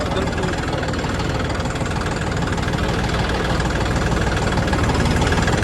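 A John Deere 5210 tractor engine idles steadily and loudly throughout, a continuous low rumble with a faint knocking throb and no voices.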